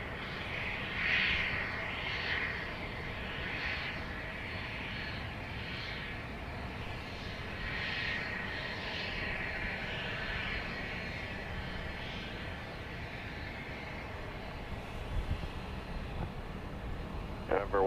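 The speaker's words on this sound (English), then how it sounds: "Got an Embraer Phenom 300 just touching down from Miami." An Embraer Phenom 300 business jet touches down at an airport at night, its engine noise a broad, distant roar that stays steady throughout, with faint radio talk near the end.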